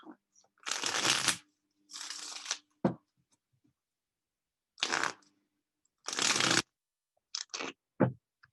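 A deck of tarot cards shuffled in several short, crisp riffling bursts, close and clear, with quiet gaps between them and a few single card taps at the end.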